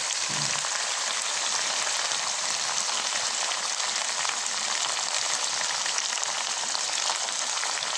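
Tomato sauce poured into a hot pan for beef spaghetti sauce sets off a steady, dense sizzle like rain on a surface, loud and continuous throughout with no talking.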